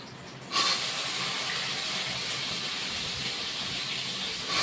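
Boiled potato and carrot pieces hitting a hot pan and frying for a vegetarian dalia dish, a sudden loud broadband sizzle that starts abruptly and holds steady and close.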